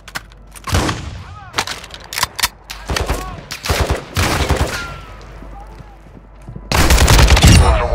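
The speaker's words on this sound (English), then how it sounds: "You are taking effective fire." Bursts of automatic gunfire in Call of Duty DMZ, loud and near, with several separate volleys, some shorter cracks and a heavy sustained barrage at the end, alone with no talk.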